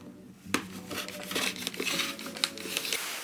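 Scissors snip through t-shirt knit fabric as small pieces are cut for a sewing project, giving several close crisp cuts with rustling and crinkling of the cloth between them.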